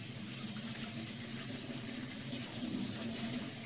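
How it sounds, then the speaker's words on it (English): Hot water runs from a tap over a fish scaler as it is rinsed clean without soap, a steady close gushing and splashing that fills the clip without pause. "I'm using hot water, but no soap."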